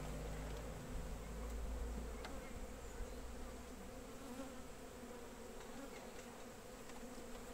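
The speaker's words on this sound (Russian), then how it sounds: "сами видели, тут пчелы много" Honey bees buzz steadily around young hive splits during beekeeping work on comb foundation, a dense, continuous hum of many insects close by with no voices.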